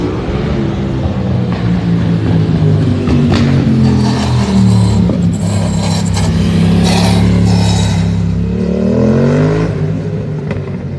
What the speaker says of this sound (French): Il y a 2 Porsche Cayenne qui descendent.